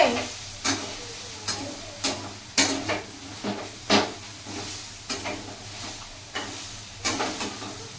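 Soybean chunks frying in a pan at home, a continuous sizzle broken by repeated stirring scrapes and clinks at intervals, close by, with a faint voice now and then.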